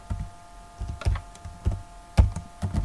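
A short command typed on a computer keyboard while working in Python: a handful of distinct, close key taps in an uneven rhythm over quiet room tone.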